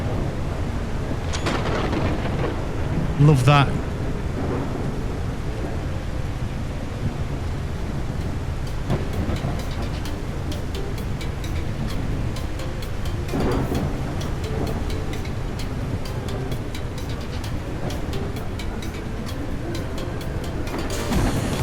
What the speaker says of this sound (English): the rain looks wicked